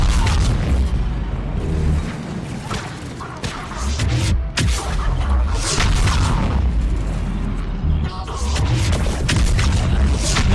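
Enemies blowing up in the Mass Effect 3 video game, a dense, loud run of booming blasts and bursts over about ten seconds, with near-continuous rumbling combat between them.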